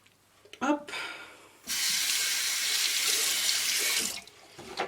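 Water gushes steadily from a bathroom tap for a few seconds during a makeup-removal routine, a loud bright hiss that starts abruptly and stops, with brief handling noises before and after.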